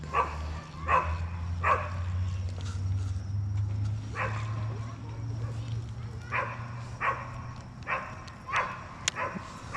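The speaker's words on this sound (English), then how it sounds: "There's a dog." A dog barks in repeated short, sharp bursts at moderate distance outdoors while someone is out fishing with a rod, over a steady low hum.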